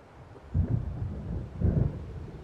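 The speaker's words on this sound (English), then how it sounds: "It seems there's a storm coming." Thunder from an approaching storm in the Alan Wake video game booms low twice in close succession, each deep rumble swelling and then fading under a quiet background.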